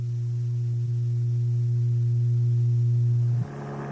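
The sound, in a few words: 120 Hz tone, like a grinding machine hum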